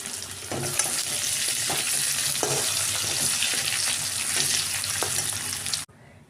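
Boiled potatoes fry in oil in a pan with a continuous close sizzle and crackle, some scraping from stirring, before the sound cuts off abruptly near the end.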